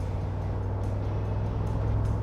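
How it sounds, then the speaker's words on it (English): Mercedes-AMG G 63 SUV with its V8 engine in Sports Plus mode: a steady, droning low engine rumble at a constant level, heard alone without talk. "the sound this V8 makes is just so good"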